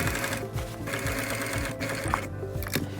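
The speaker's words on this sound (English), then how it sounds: "basically sewing a square around the tear" A sewing machine stitches a square patch around a tear in fabric, its needle hammering in a rapid, continuous mechanical rhythm, loud and close with no talking.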